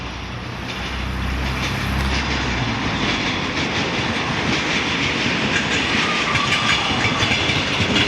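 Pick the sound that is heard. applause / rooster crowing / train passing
train passing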